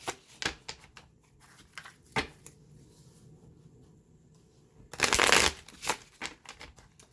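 Rider-Waite holographic edition tarot cards being shuffled, brief riffling bursts and a longer shuffle near the end, close and quiet with no talking.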